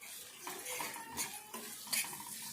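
Chili powder being stirred into a simmering soya chunk curry in a pan, with a spoon scraping and clinking against the metal in short strokes over a soft sizzle, close and alone.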